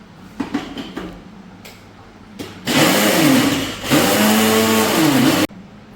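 A kitchen mixer grinder blending ginger garlic paste starts after a few soft knocks, then whirs loudly and steadily for about three seconds with a brief dip in pitch before cutting off abruptly.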